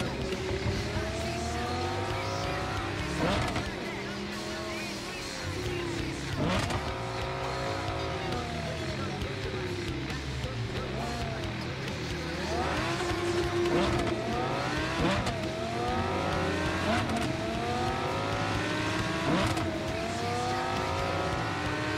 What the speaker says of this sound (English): The gearbox still sounds like it's asking for mercy.